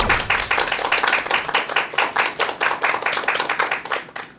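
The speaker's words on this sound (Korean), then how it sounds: "큰 박수 부탁드립니다." Live audience applause in a Korean lecture hall: steady, dense clapping from a crowd that keeps up a rhythmic, close pulse throughout, with no voices over it.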